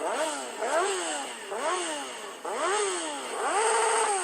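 Motorcycle engine revving played as a phone ringtone, a repeating pattern of rising revs about once a second, loud and alone.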